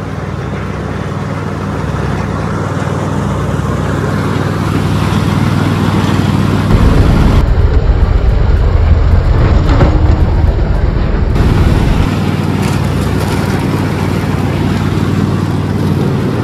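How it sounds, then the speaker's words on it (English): A Cub Cadet XT1 LT46 riding mower cuts weeds on a ranch, its engine droning loudly and close, rising to a harsher, higher-throttle roar midway before settling back to a steady rumble. "all I have to do is go a little bit higher on the throttle There we go, cutting the weeds"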